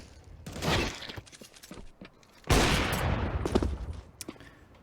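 Desert Eagle pistol fire in a Counter-Strike match, heard as two loud, sharp bursts of gunshot noise about two seconds apart, the second louder and ringing on with a trailing rumble.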